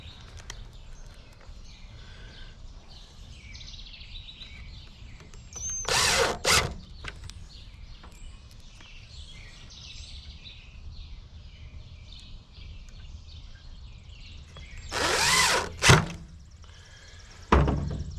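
A power drill drives screws into a cabinet door in a van build, with two short whirring bursts separated by a long quiet stretch and a final brief burst near the end.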